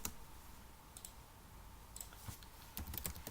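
Faint, sparse clicks of a computer keyboard as code is typed, a few light keystrokes clustered in short bursts over a quiet hum.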